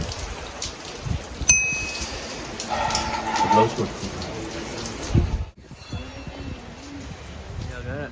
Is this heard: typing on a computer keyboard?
no